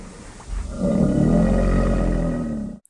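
A crocodile gives a deep, rumbling roar-like growl that swells after a half-second and holds steady for about two seconds before cutting off.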